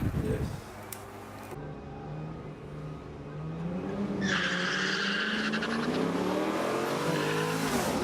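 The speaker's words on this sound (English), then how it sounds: "There's a fair bit of tyre spin." A race car spinning its tyres at a drag launch during test and tune at Heathcote, with a loud sustained squeal and rising engine roar building from about four seconds, close and continuous, with a crowd or commentary bed underneath.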